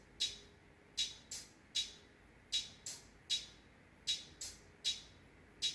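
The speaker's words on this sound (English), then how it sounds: "There's 2 hats and a shaker." A quiet electronic beat loop made in FL Studio plays two hi-hats and a shaker in a steady repeating pattern of crisp, bright ticks and short hissy shakes, with no other instruments or voices.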